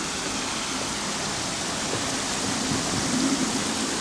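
Running water in a London royal park, a steady broadband wash like a fountain or cascade, continuous and fairly close, with no voices over it.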